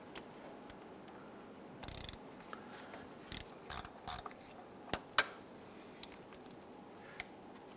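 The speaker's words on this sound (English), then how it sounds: "Use a 13mm socket. We're going to remove this bolt right here holding this heat shield." A 13mm socket on a ratchet works loose a heat shield bolt on a 1995–2001 Ford Explorer's exhaust manifold, giving scattered short metallic clicks and rasping bursts, close but quiet, separated by pauses, with no talk.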